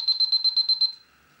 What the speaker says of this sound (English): When a leak is detected, an audible alarm will sound